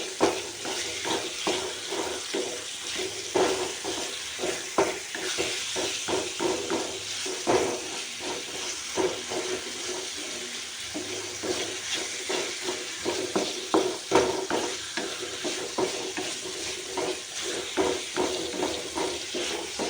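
Onion and curry leaves sautéing for tomato chutney, a continuous oily sizzle broken by frequent spatula scrapes and taps against the pan, close and busy with no talking.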